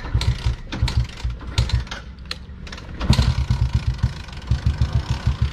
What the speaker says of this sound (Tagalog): sipahin muna natin para mag-circulate yung langis